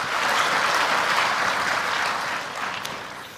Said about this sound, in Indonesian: Tepuk tangan untuk berita baik boleh.